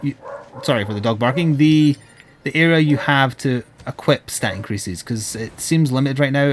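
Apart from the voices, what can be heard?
dog barking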